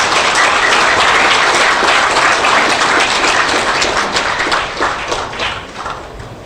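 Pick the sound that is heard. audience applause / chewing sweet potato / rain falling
audience applause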